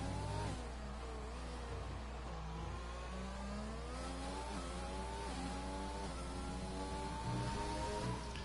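An F1 car engine howls through a hot lap at Mexico City in a video game, its pitch climbing and dropping with repeated gear changes, steady and fairly quiet without a break.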